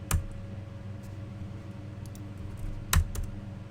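Computer keyboard typing: a few sharp key clicks, loud and close, with a distinct mash of keys near the start and another cluster near the end over a steady low hum.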